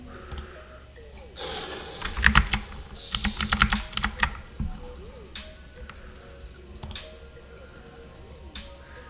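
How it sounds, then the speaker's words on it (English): Typing on a computer keyboard during coding, quick bursts of sharp key clicks and a couple of dense flurries, close and fairly loud, separated by short pauses with faint background noise. "typing control Y"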